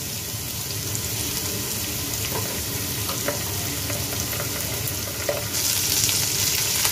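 Ginger paste fries in a pan for a village-style tangra fish and brinjal dish, a steady loud sizzle with faint stirring clicks throughout and a brighter hiss near the end.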